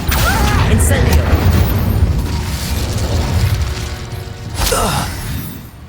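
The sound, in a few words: Incendio fire spell cast in a video game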